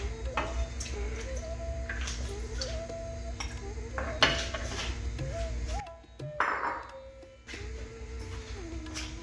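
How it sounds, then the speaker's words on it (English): Prawns go into a boiling pot of Tom Kha Gai soup, with metallic clinks of a utensil against the pan and the soft plop of the ingredients amid kitchen clatter, close by and moderately loud. "I'm going to start by adding the prawns."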